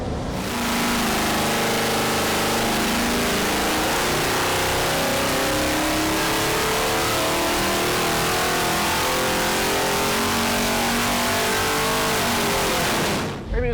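Twin big-block engines coupled on a dyno roar continuously at high revs, a loud, dense exhaust drone with rising harmonic sweeps, sustained throughout before cutting off at the end.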